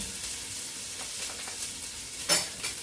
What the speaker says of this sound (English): While this is cooking, because of course you want your onion to caramelize so the sweetness comes out